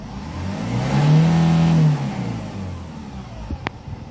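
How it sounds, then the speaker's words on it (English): Hyundai Porter Super Wing truck engine revs up in one smooth, fairly loud rise and settles back down, followed by a few clicks and a short mechanical tap, with no talking. "Let's try to accelerate and listen to the engine sound."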